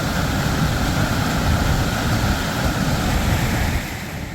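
Rushing water of Little Manitou Falls in a Wisconsin state park roars as a steady, loud broadband wash heard up close at the top of the falls, with no talking.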